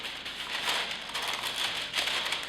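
Wax paper crinkling and crumpling continuously as a rolled pastry crust is lifted into a pie plate, close and fairly quiet, with no talking.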